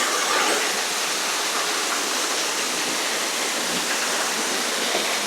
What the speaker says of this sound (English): waterfall that you will find here in Slovak Paradise.